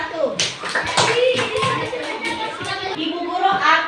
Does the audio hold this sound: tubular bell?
no